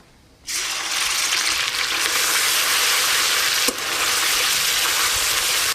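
Onion paste dropped into hot mustard oil with a bay leaf and whole garam masala for catla fish kalia, bursting into a loud, steady sizzle after a brief quiet moment and hissing on without pause.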